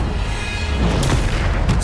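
A Descendo spell lands in the Hogwarts Legacy video game as a heavy, low booming impact with crackling bursts, loud and continuous through the moment.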